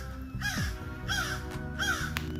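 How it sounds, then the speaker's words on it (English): A crow caws three times in a steady rhythm, fairly close and clear, over a low engine or machinery rumble at a residential landscaping job. "The crow is making this point."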